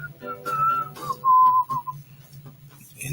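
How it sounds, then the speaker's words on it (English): A person whistles a short tune close by, with clear sustained notes and a quick slide between pitches over a low steady hum. "he's whistling a tune."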